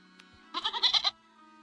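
A goat in the village game REKA gives one short, quavering bleat close by, standing alone against a quiet background.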